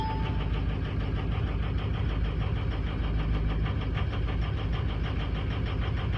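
A 2005 car engine runs steadily at idle with its fuel injector compensation switched off, a continuous loud mechanical drone with a faint ticking pulse throughout, no voices.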